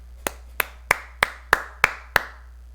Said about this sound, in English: Apparently that maxes out my volume when I clap.